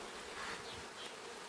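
A steady, droning hum of honeybees buzzing together in a hive, soft but constant, with no voices.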